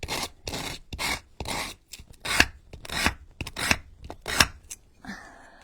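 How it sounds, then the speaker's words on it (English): Sanding a Halloween book nook vignette piece by hand, a close, loud run of rhythmic rasping strokes, about a dozen even passes with brief gaps between them, ending in a softer rustle. "It's hard to sand and not be noisy."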